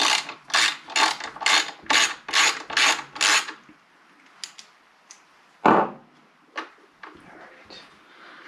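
A 5/16 socket ratchet works a bolt on a Toro 1028 snow blower, giving eight rapid, evenly spaced clicking strokes, then scattered lighter clicks and one scraping rub, close and clear.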